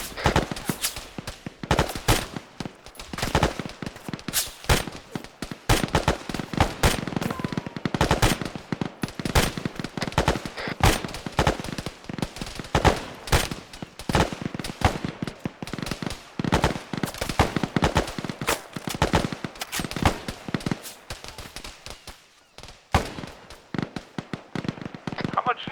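Sustained automatic and single-shot gunfire from a first-person shooter video game, dense bursts of loud cracks throughout with talk mixed in.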